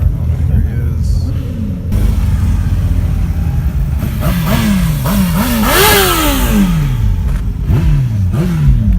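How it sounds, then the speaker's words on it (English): A motorcycle engine revs repeatedly at a street gathering, with rising and falling pitch sweeps over steady traffic rumble, moderately close and loud. "I heard a bike somewhere."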